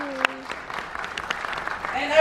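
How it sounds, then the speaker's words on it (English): Scattered audience clapping aboard Royal Caribbean's Explorer of the Seas cruise ship, fairly quiet and sparse, with a voice speaking briefly at the start and end. "please give a big round of applause for both of them."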